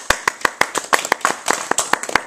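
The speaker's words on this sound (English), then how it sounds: "Okay, round of applause." A small group claps hands in a short, loose round of applause, with distinct individual claps landing in an uneven rhythm, close and fairly loud, with no talking.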